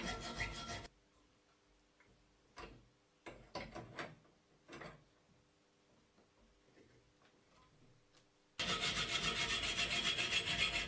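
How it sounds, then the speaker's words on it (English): A hand saw guided by an angle joint cuts an iron bar, its blade cooled with water. Irregular, fairly quiet rasping strokes fall between louder bursts of noise at the start and end. "cut the iron bars by using an angle joint as guide for the saw"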